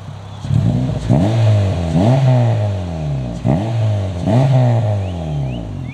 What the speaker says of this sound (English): you hear the rasp, not the raspiness, but the rattling of the exhaust